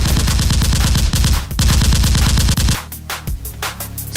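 Toy Nerf guns firing in a mock crime-fighting battle: rapid, loud, close bursts of mechanical clacking shots in a steady rattling rhythm, then a few scattered single shots.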